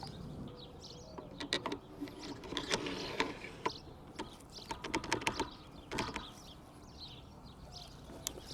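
Small metallic clicks and ratcheting snaps as a Zrak ON-M89 scope is slid and locked onto the mount of a Zastava ZPAP M70 underfolder rifle, close-up, irregular and fairly quiet with faint birdsong behind.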